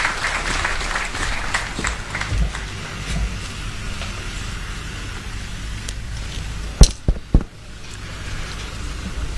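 An audience at the launch of the NSSF housing project in Uganda applauds in a dense, steady wash of clapping that fades, followed by a few loud bumps near the end.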